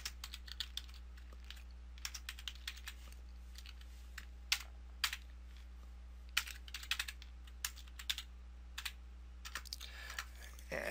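Faint keystrokes from a computer keyboard during web page editing in Dreamweaver, scattered short clicks in irregular bursts over a steady low hum, with no talk.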